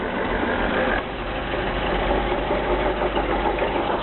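Drivetrain noise from a Citroen DS with the gearbox in second gear and the wheels held from spinning: a steady, loud mechanical whirr with a knocking, idling-engine texture that runs continuously close by.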